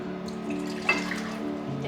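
Water poured into a mixer bowl in a home kitchen, a soft steady trickle over a low hum, brief and faint.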